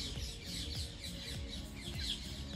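A bird squawks repeatedly outdoors in a village setting in Himachal, its harsh calls repeating rhythmically over a steady background of other birds.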